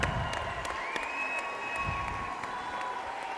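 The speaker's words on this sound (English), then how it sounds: "Round of applause for him." A gym crowd at a boys' high school basketball game, Boaz at Guntersville, applauds a departing senior, producing a steady, moderate wash of clapping with light cheering that carries evenly throughout.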